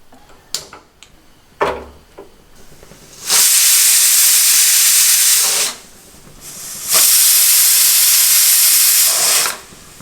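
A pressure cooker of chickpeas with onion, garlic and green chillies lets out two long, loud steady hisses of steam, each about two to three seconds, after a few faint ticks and knocks.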